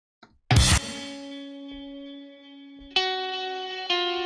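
A strummed electric guitar chord rings out through heavy effects, sustaining and fading, then two more bright processed chords are struck and left ringing.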